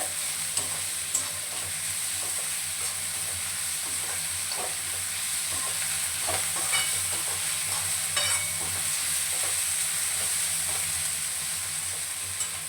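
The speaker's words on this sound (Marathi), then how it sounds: "आता आपण कांदा नरम होईपर्यंत आपल्याला हा फ्राय करून घ्यायचा आहे, छान असा गुलाबी कलरचा होईपर्यंत" Onion fries in a pan until soft and pink, giving a steady close sizzle with occasional stirring scrapes and no voices throughout.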